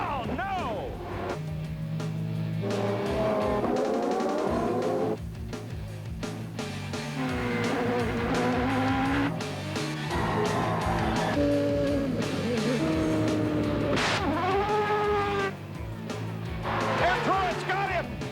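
Indycar race cars running wheel to wheel at Laguna Seca in 1995, engines wailing and shifting pitch as they pass under loud, excited commentary.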